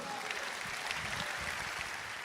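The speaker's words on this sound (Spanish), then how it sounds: "Dale un aplauso al Señor." A church congregation claps during a sermon, a fairly quiet, dense patter of many hands sustained throughout, with no speech over it.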